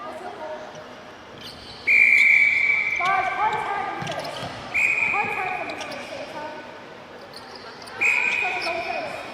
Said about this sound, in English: A lot of whistle inside this circle at the moment.